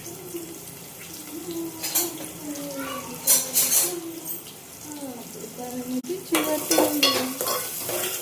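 Onions and green chillies frying in a pan for a home chicken curry, with a constant sizzle, scraping stirs and clatters of the spoon, and a faint tonal hum running through, no words spoken.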